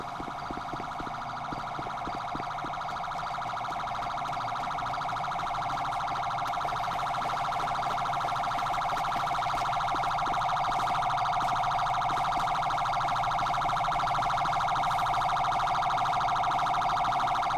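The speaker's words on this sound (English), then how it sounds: "You can hear the siren." A police car siren from Grand Theft Auto V wails steadily and loudly for the whole stretch, a continuous sustained tone with faint background rumble beneath.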